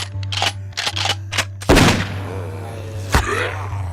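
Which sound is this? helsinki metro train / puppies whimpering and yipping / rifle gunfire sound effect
rifle gunfire sound effect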